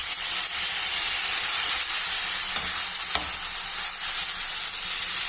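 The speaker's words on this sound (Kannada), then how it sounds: "ದೊಡ್ಡ ಪತ್ರೆ ಸೊಪ್ಪು ಮೆತ್ತಗಾಗೋ ತನಕ ಬಾಡಿಸ್ಕೊಳ್ಳೋಣ." Doddapatre (Indian borage) leaves with tamarind sautéing in a pan, giving a steady close hiss of frying and steam with occasional faint stirring ticks, and no voices.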